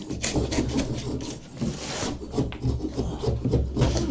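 A wall is scraped and stripped during a house renovation in West Wales, giving close, rhythmic rasping strokes in quick repeated bursts, moderately loud and alone.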